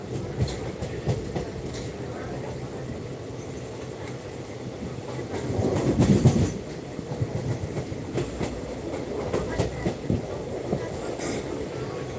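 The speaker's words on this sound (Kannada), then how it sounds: "ನಾವು ಬೆಂಗಳೂರಿಗೆ ಟ್ರೈನ್ ಮುಖಾಂತರ ವಾಪಸ್ ಆಗಿದ್ದೀವಿ" A train bound for Bengaluru, heard from on board, rumbles steadily along the rails with a rattling clatter, swelling briefly louder midway before settling back to a constant roar.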